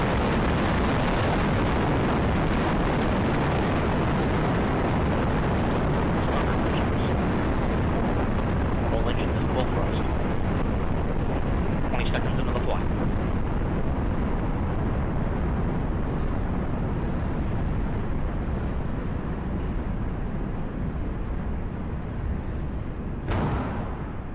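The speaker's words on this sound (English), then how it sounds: "We have liftoff of the United Launch Alliance Delta IV Heavy rocket" Heavy-lift rocket liftoff of a Delta IV Heavy with RS-68 engines, a loud continuous broadband roar and rumble filling the whole span without a break, with no talk heard over it.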